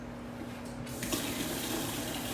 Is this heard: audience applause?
no